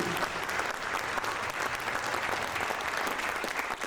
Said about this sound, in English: So big round of applause for Bobo and all that they do.